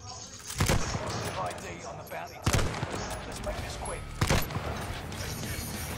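Bursts of gunfire in Call of Duty Warzone on the Caldera map, three sharp volleys spread over a few seconds, loud and close above a steady game-ambience bed.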